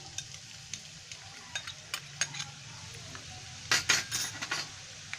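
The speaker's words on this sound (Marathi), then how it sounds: "हा कांदा चांगला फ्राय करायचा आहे, म्हणजे तो तेलामध्ये थोडा शिजायला पाहिजे." Finely chopped onion fries in hot oil in a pan for besan jhunka, giving a steady soft sizzle with scattered clicks and scrapes of a stirring spoon, growing busier near the end, close and without voices.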